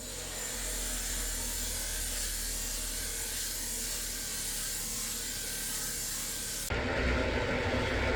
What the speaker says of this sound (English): I'm going to take this bottom piece here and I'm going to sand it down real smooth